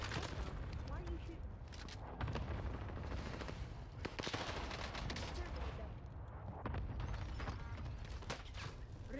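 Dense gunfire from Call of Duty Vanguard Warzone on Rebirth Island with a C58 rifle: sustained automatic bursts and booms, loud and continuous throughout, with voices partly mixed in.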